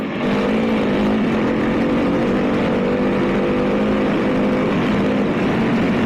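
A Honda CRF300L motorcycle engine pulls hard in fourth gear, a loud, steady, close-up drone that holds its strained pitch for several seconds with no talking over it.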